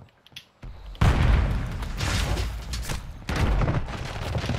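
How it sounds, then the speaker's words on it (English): A grenade goes off in a multiplayer battle-royale shooter, giving a sudden loud boom that rolls into a sustained rumble of blasts and gunfire-like bursts, with a second heavy surge near the end. "Grenade out!"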